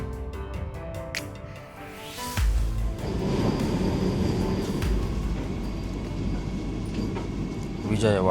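A Vande Bharat Express train arriving at Vijayawada Junction on the Secunderabad to Visakhapatnam run: steady rumbling and rolling hum with rail clatter and a few sharp knocks, fairly loud and continuous.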